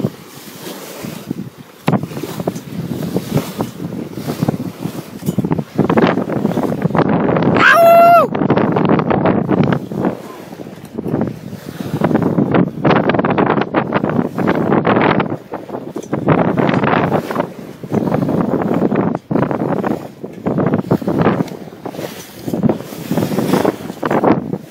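Sailboat driving hard under way, recorded from out on the bowsprit: constant rushing water and bow spray with heavy wind buffeting the microphone, loud and close throughout, plus a brief high-pitched squeal near the eight-second mark.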